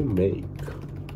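Computer keyboard typing in a short burst of clicks, partly under a voice speaking Bulgarian.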